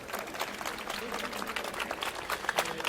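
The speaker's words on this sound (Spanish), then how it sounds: "otra vez un fuerte aplauso para el ponente" A conference audience at a Campus Party event applauds a speaker after a cryptography talk, with dense, steady clapping that holds throughout, fairly close and loud.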